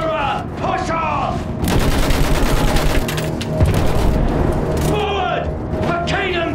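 Dense machine gun fire and explosions in the World War I game Battlefield 1, loud rapid bursts sustained across the battle with booms, under shouted voices.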